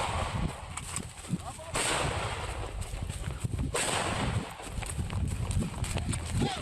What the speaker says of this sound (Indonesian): tembakan peringatan mengiringi penggerebekan arena sabung ayam di Pangkep, Sulawesi Selatan